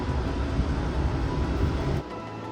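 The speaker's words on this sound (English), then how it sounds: "Enjoying a shower on the train is a luxury I didn't want to miss" Water from a shower runs aboard an Amtrak sleeper train bound for Orlando, a steady, close, broadband rush over low train rumble that cuts off abruptly near the end.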